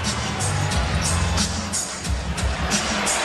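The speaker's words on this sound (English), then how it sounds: "You hear the moan from the crowd as Artest unleashes from outside." Arena crowd at an NBA Lakers at Kings basketball game lets out a collective groan-like murmur as a long outside shot goes up, a dense roar of many voices with swelling rises, and a commentator's voice heard faintly within.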